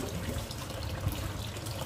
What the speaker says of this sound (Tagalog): dapat talaga pag maghugas ka dito, ibabad mo na sa tubig